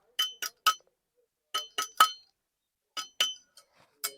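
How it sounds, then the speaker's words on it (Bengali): Boiled Campbell duck eggs are tapped lightly to crack their shells. The sharp clicks come in three quick groups of about three taps each, crisp and close in a quiet room. "ডিমগুলো হালকা করে একটু অন্তর ফাটিয়ে দেবো যাতে ডিমগুলো তাড়াতাড়ি ভালো করে খোসা উঠে যায়"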